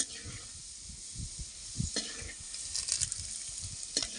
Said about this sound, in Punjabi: ਹਲਕਾ ਜਿਹਾ ਬ੍ਰਾਊਨ ਕਰ ਲਵਾਂਗੇ ਲਸਣ ਨੂੰ